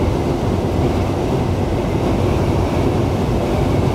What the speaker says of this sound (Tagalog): Ayan yung tren sa gilid natin,